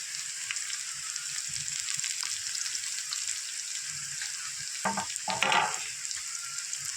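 Chopped garlic frying in oil in a pan, a steady close sizzle with a brief burst of clatter and stirring near the end, no voices.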